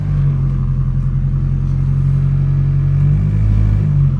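Turbocharged JDM Honda Civic engine idling steadily after start-up, a loud, close, constant low rumble with a faint higher hum, no talking.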